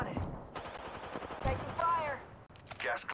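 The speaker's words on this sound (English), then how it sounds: "Getting shot at." Rapid bursts of automatic gunfire in the battle royale video game Apex Legends, loud and close, with brief in-game character voice callouts between the volleys.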